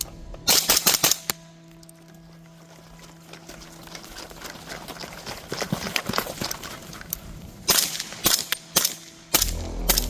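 A 300 Blackout rifle fired on a subsonic course of fire at a shooting range, a series of sharp shots in quick bursts near the start and end with lighter clatter and movement between, no talking.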